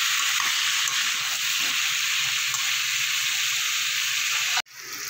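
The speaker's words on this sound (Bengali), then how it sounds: "এবার আমি কেটে রাখা আলুগুলো দিয়ে দেবো। দিয়ে ভালো করে একটু ভেজে নেব।" Cut potatoes for a vegetarian pumpkin curry fry in hot oil in a pan, giving a loud, steady, dense sizzle throughout that cuts off briefly near the end and then resumes.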